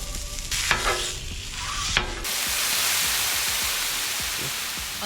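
Sausage sizzles on a Blackstone griddle, a loud, steady frying hiss swelling after a couple of sharp scraping knocks from a spatula, close and with no voices.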